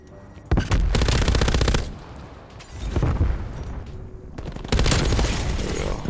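Bursts of MG 82 machine gun fire in Call of Duty Cold War: long rapid volleys at the start and end with a shorter burst in the middle, loud and close.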